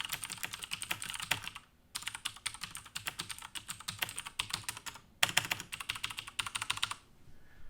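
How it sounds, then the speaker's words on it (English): Fingers typing on a Logitech MX Mechanical keyboard fitted with blue clicky switches, producing rapid crisp clicks in bursts with two brief pauses, close and fairly quiet, no voices. "these are mechanical blue switches"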